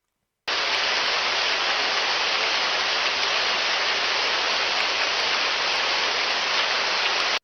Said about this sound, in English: This is a low-level rain shower sound.